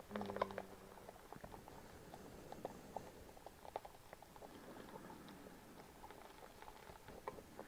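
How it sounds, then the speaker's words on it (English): Resin being stirred in a container gives soft, irregular scraping and pattering taps, quiet and close, continuing steadily with no speech. "Keep stirring."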